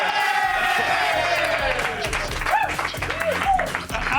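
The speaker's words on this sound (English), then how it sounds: "Another round of applause for me" A television studio audience applauds and cheers for a show host, with steady clapping mixed with whoops while voices talk over it.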